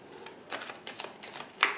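Soft papery riffling of tarot cards being shuffled, a series of quick close bursts with a sharper snap near the end.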